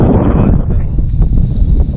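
Strong wind on an open hillside among wind turbines, with rain approaching, buffets the microphone with a loud, continuous low roar.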